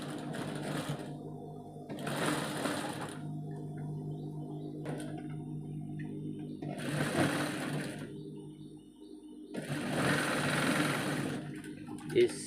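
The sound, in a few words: sewing machine stitching a shirt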